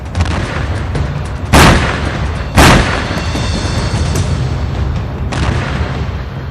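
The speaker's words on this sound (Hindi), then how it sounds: "इजराइल की वायुसेना गाजा पर हवाई हमले कर रही है, जबकि उसके टैंक आग के गोले बरसा रहे हैं" Explosions from Israeli air strikes and tank fire on Gaza: two loud, sharp booms a second apart, then a fainter third blast, over a constant rumbling backdrop.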